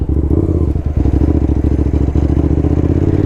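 A 650cc Hyosung twin-cylinder sport motorcycle accelerates hard on a 0 to 60 run, its loud, steady engine drone close and continuous with a brief dip partway through, no voices over it.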